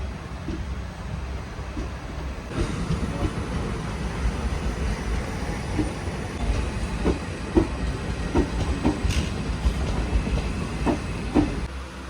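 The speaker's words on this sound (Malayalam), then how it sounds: "ഇത് സാധാ ഒരു എക്സ്പ്രസ് ട്രെയിൻ." Inside a Mangaluru Express sleeper-class train, a constant low rumble of the moving carriage with rhythmic clickety-clack of wheels over rail joints growing more pronounced partway through, loud and close, no talking.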